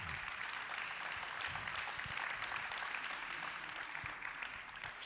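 A conference audience applauds to welcome two speakers to an architecture discussion, a faint, even wash of clapping that holds steady for several seconds without a break.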